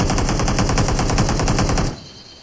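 Rapid automatic gunfire from a shooter video game, a loud, continuous rattling burst of shots lasting about two seconds before cutting off abruptly into quiet.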